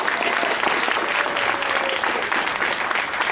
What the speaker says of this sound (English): give Edie a round of applause